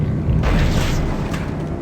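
A blast in the video game Dead Space 2, a dense rumbling boom that swells after a quarter second and sustains loudly for over a second before easing off, with no talk over it.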